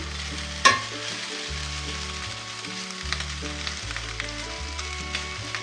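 Liver and onion frying in a pan while being stirred, a steady close sizzle with a sharp utensil clank near the start and light scraping through, with no voices.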